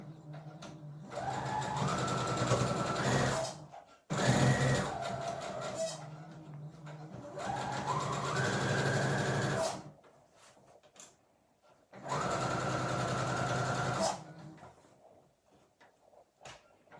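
A sewing machine runs in several bursts of steady stitching on a piped bolster cushion cover, each a few seconds long, with brief pauses between, close and fairly loud.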